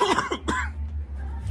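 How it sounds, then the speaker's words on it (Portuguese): A couple of sharp, close coughs at the start, followed by quiet room noise with a low hum. "tô com tosse, galera"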